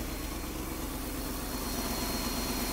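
A Mopar 318 V8 running on GM throttle-body injection idles rough, a steady close low rumble with a slightly uneven pulse throughout and no talking.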